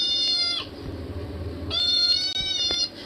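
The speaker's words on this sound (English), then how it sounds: "Press cat to make noise." Two drawn-out, high synthetic cat meows, each followed by a brief tail, sounding like a game sound effect with a clean, slightly electronic tone.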